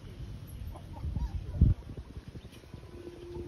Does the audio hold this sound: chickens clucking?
yes